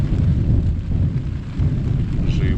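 Stormy outdoor weather with lightning, a continuous low rumbling roar of rain and wind close by, with no distinct thunderclap standing out.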